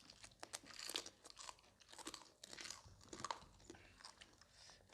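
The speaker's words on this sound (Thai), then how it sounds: "แคบหมูกรอบๆนะ" Crunchy crispy pork rinds being bitten and chewed close up, loud irregular crackling crunches repeating through the whole stretch, with no talk.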